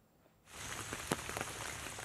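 Rain falls in Assam's Brahmaputra valley, a soft steady patter that begins after a brief hush, faint overall with a few sharper drops standing out.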